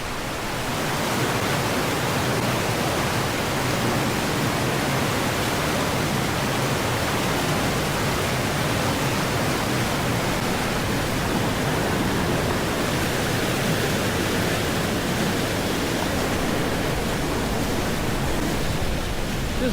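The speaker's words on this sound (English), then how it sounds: "And up along the side of this beautiful river." A river beside a snowy trail runs steadily in a broad, continuous rushing wash, loud and unbroken throughout with no voices.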